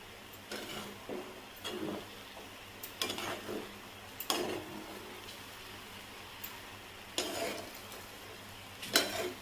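Sweet semolina shira is stirred in a pan over a low gas flame, with irregular scraping strokes and faint sizzling coming in bursts between quiet pauses.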